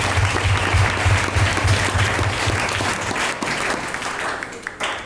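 A church congregation claps loudly and continuously, a dense wash of applause over a low sustained organ or keyboard tone that fades near the end.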